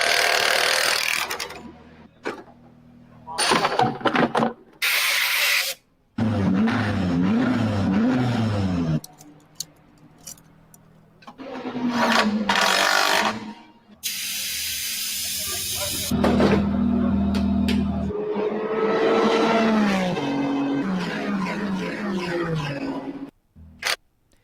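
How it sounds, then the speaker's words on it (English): Quick cuts of car-repair sounds: a tire coming off, sharp tool taps and hissing bursts, then a car driving and an engine revving, each fragment short and abrupt, with separate stretches where a voice speaks. "taking the tire off, the taps, the drives, the revving of the engines"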